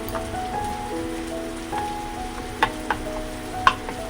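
Ground spices such as cumin and coriander being stirred into frying oil in a pan for Bengali doi chana masala, a steady crackling sizzle with a few sharp utensil taps and scrapes, no voices.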